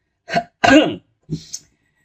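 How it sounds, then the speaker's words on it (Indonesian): A short burst of coughing, two or three harsh throaty hacks close to the mic, with silence between them. "Maaf batuk."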